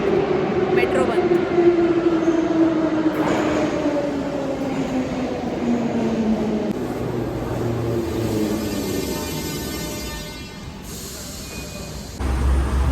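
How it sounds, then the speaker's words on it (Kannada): A metro train pulls into a station, its loud, descending motor and brake whine gliding down over several seconds with rumbling wheels beneath, while voices murmur faintly in the background. "ಮೆಟ್ರೋ ಬಂತು."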